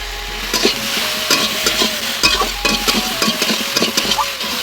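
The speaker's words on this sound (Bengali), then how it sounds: "এখন আমি হলুদ গুঁড়া দিয়ে দিচ্ছি আর তার সাথে একটু তেলও দিয়ে দিচ্ছি" Vegetables frying in oil with salt and turmeric being stirred, repeated metal spoon scrapes and clinks against the pan in an uneven rhythm over a steady sizzle, close up.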